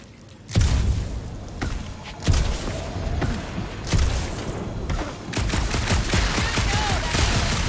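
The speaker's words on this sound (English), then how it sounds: "Quit shooting!" Gunfire in the Guardians of the Galaxy video game: several loud, heavy blasts at irregular intervals, each followed by a rumbling tail, with game noise filling the gaps.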